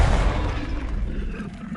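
A Confringo fire spell detonates in Hogwarts Legacy, a deep booming blast that hits hard at once and then rumbles away over under two seconds.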